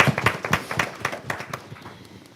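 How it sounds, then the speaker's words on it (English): Scattered applause from attendees at a city council meeting, a small group clapping in uneven bursts that start fairly close and gradually thin out and fade. "Let's give him a round of applause."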